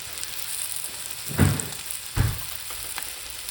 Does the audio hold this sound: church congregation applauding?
no